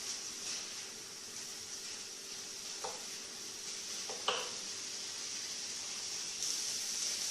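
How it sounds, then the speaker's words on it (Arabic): Chicken, onion and tomato sauté in a pan with a soft, constant sizzle, broken by a few faint scraping strokes of stirring. No voices. "وكنحرك هاد العناصر كتشحر"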